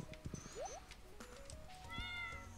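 Cat meowing in the farming game Stardew Valley, several short rising meows over busy background game music, moderately loud and without talk.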